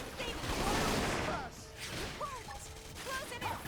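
Rapid bursts of gunfire from a Xenoblade Chronicles X battle, a dense clatter up front that thins into scattered shots, whooshes and mechanical clanks alongside game effects.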